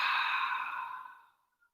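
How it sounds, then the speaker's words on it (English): A single long open-mouth exhale, a yoga clearing breath, close and unaccompanied, breathy and steady before fading out after about a second and a half. "Open mouth, exhale."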